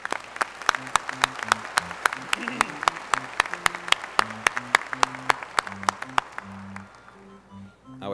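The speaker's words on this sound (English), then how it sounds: "A round of applause for our MDS graduates." Graduates at a university commencement get a round of applause from the audience: a steady patter of many hands clapping, with a few louder claps standing out nearby, fading toward the end as a voice resumes over a hall's background hum.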